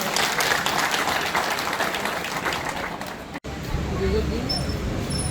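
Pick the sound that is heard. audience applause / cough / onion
audience applause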